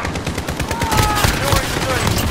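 A mounted light machine gun in a first-person shooter game fires in steady rapid bursts, loud and continuous, with some faint voice underneath.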